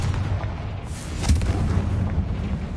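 A Confringo spell explosion in a Harry Potter video game: a short, heavy boom with a blasting burst, set against an ongoing rumbling background and with no talk.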